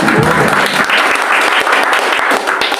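A church congregation at a Christmas service in Jakarta claps in loud, dense applause that stays steady and close for the whole stretch, with no talk over it.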